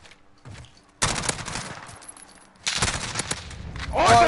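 Bursts of rapid video game gunfire crackle loudly in a fusillade, with two heavy volleys a second or so apart and automatic fire building at the end, over faint background chatter.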